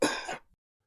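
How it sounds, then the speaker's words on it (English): A single short cough with a rough, breathy onset, fairly close and moderately loud, cut off after under half a second and followed by silence. "Just a cough."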